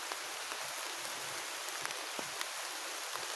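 Steady rain falling on surfaces outdoors, a dense even hiss with scattered sharper drop ticks, moderately faint and without voices.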